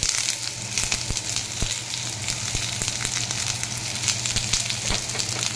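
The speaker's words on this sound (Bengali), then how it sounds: "কড়াতে সাদা তেল দিয়ে একটু পেঁয়াজ কুচি দিয়ে দিলাম, আর সাথে দিয়ে দিলাম একটু লঙ্কা" Chopped onion and chili fry in white oil in a wok for an egg tarka, a steady close sizzle with a low hum underneath and occasional sharp crackles and taps, no voices.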